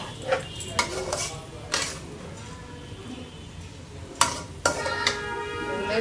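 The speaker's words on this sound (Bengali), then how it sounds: "কষিয়ে নিব মশলাগুলা।" Spices are stirred and sautéed in a pan with beans and potatoes for a coral fish curry, with a utensil scraping and clinking against the pan several times over a soft, steady sizzle.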